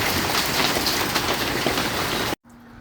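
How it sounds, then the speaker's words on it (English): Steady rain after a storm in Southern Illinois: a dense, close hiss of drops on surfaces that cuts off abruptly near the end, leaving a quiet low hum. "Still a little bit of rain."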